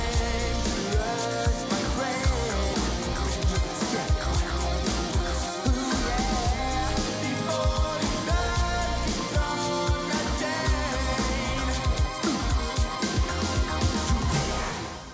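A rock song by a band from their debut record plays as a full, dense mix of drums, bass and layered instruments, loud and steady throughout with no talking.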